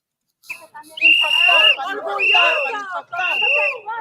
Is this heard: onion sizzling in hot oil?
no